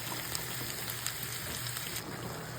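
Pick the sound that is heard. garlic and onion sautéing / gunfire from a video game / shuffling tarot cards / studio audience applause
garlic and onion sautéing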